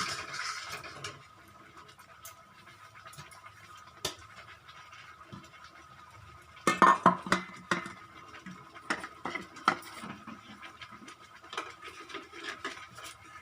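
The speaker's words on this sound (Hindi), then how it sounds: "और सारी मसालों को हम अच्छे से मिला देंगे।" Spices being stirred together in a pan for dum aloo with coriander powder, heard as scattered scraping and light clinking of a spoon against metal, close and fairly quiet with no talk.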